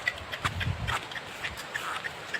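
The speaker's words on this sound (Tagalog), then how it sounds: "Pahinga muna daw ang mga kabayo." Horses in a remote countryside area give off light, uneven clip-clop hoof steps, fairly close and moderately loud over quiet outdoor background noise.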